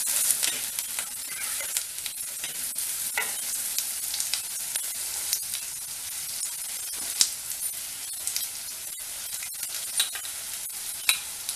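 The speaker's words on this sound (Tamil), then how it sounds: "உருளைக்கிழங்கு போட்டு கொஞ்சம் வதக்கிட்டு அப்புறம் நம்ம தக்காளியை போடுவோம்." Onions and potatoes sauté in a pan for an aloo gobi sabzi, a steady close sizzle and hiss with occasional stirring scrapes throughout, no voices.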